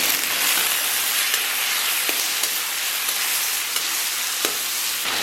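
Tomatoes and tomato paste sizzle in moderately hot oil with scallion, ginger and garlic in a wok, a steady dense crackling hiss close up with a few faint spatula taps, continuous and with no talking.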